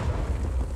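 A single deep, muffled boom of artillery cannon fire in the Civil War multiplayer game War of Rights, low and rumbling, fading quickly.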